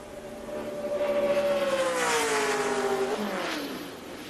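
A 2007 NASCAR Busch Series car runs a solo qualifying lap at Talladega, its engine building into a loud sustained howl that bends downward in pitch as it sweeps past and fades.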